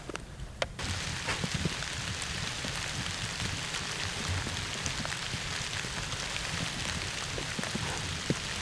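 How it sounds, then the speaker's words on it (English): Heavy rain pours steadily at a deer hunting camp, a dense continuous hiss with scattered drop impacts close by, with no voices. "We were not expecting it to be raining this much today. Thought it may be a light drizzle, but it's been pouring."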